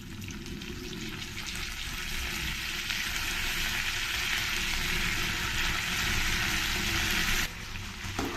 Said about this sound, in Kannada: ಎಣ್ಣೆಯಲ್ಲಿ ಈ ಬದನೆಕಾಯಿನ ಸ್ವಲ್ಪ ಚೆನ್ನಾಗಿ ಫ್ರೈ ಮಾಡಿಕೊಂಡ್ರೆ